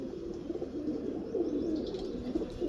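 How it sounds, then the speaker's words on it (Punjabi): A hand-held fancy pigeon, shown for its wing feathers, gives soft, muffled cooing in a steady low rumble that runs faintly throughout. "ਬਹੁਤ ਖਾਸ ਕਬੂਤਰ ਆ ਜੀ"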